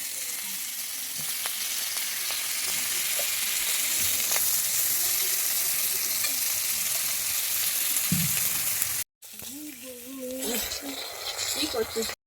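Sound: rohu fish head frying in a wok

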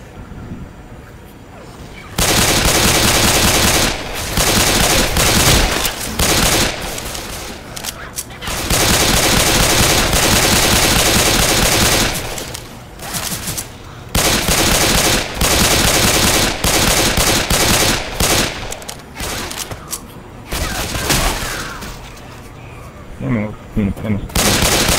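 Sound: gunfire in the video game Left 4 Dead 2

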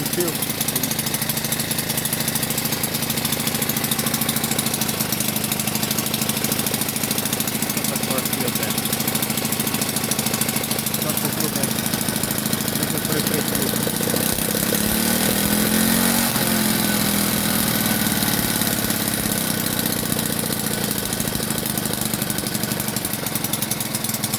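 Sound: Delta moped engine running

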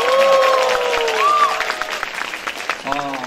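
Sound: applause

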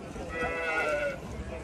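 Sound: lambs bleating at Torbalı livestock market

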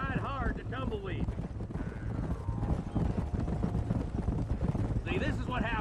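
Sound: horse galloping while riding, from video game Red Dead Redemption

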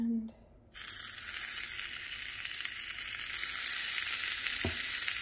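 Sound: bacon frying in a nonstick waffle maker

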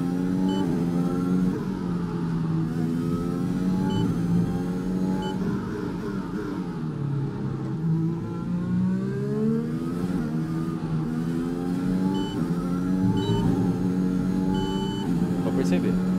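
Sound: F1 car engine revving in the video game F1 2021

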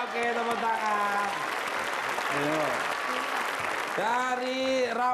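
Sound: studio audience applause on game show

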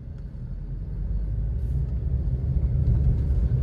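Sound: Maruti Ignis car engine running while driving

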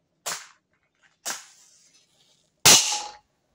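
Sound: small hydrogen explosion

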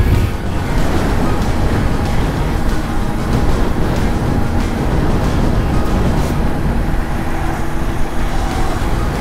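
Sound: flooded Kankakee River raging

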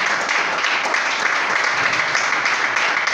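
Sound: applause

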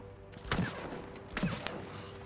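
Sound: rockets firing in the video game It Takes Two

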